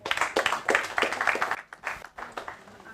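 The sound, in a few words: audience clapping for a presenter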